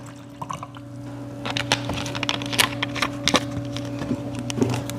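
Water pours and splashes into a container, with small irregular trickles and splashes building over a steady low hum.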